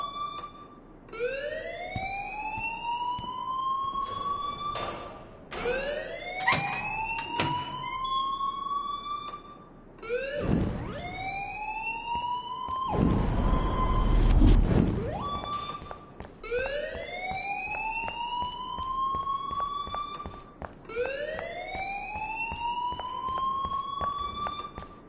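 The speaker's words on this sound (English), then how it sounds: "please turn off that alarm since that's your job" Repeating electronic alarm in the Life is Strange video game, a rising wail that sweeps upward again and again in a steady cycle, loud and continuous, with a burst of harsh noise midway.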